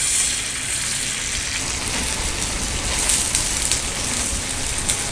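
Beaten egg hits a hot tawa for a bun omelette and sizzles steadily, a dense, even crackle like rain that holds at a constant level throughout, close and fairly loud with no talking.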